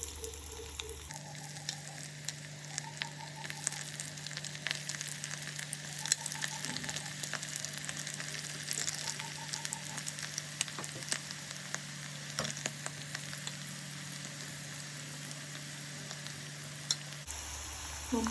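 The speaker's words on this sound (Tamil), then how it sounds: "ஸ்லோ பண்ணிவிட்டு எறாவை எடுத்து ஒன்றுனா போடுங்க" Marinated prawns deep-fry in hot oil, giving a steady, even bubbling sizzle close by for the whole clip, with a low hum underneath and faint intermittent beeps.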